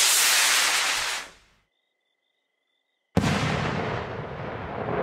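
In the video game Fireworks Mania, a loud firework boom fades away into near silence, followed by a second sudden bang that rolls into a sustained roaring rumble.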